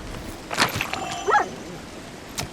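Odd creature dog noises from the video game Journey to the Savage Planet: a few short yips and whimpering calls, a pitched squeal near the middle, separated by quiet gaps.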